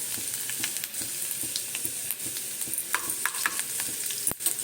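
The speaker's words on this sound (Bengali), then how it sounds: "ভাজা ভাজা হয়ে যাবে আচারের মধ্যে এগুলো খেতেও ভালো লাগে আর এগুলো উপকারী শীতের দিনে উপকারী কাজ এটা দিলাম পাঁচ ফোড়ন" Panch phoron spices fry in hot oil for an amla pickle, a steady close sizzle broken by light scraping stirs and small spatters, with no talking.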